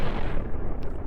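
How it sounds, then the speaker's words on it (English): Heavy laser blaster shots in the space game Cosmoteer come as a loud, booming, rumbling barrage with heavy low-end weight, sustained without a break. "there are those heavy laser blaster blasts"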